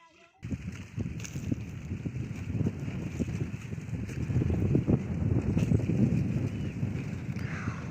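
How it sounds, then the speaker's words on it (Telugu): Strong wind roars and buffets the microphone in a farm field, building in intensity after the first second and staying loud and gusty throughout. "మస్తు గాలి వస్తుంది"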